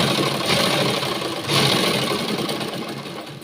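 An electric sewing machine runs steadily while stitching a blouse seam, a continuous mechanical whir with a brief surge near the middle, close and alone with no talk.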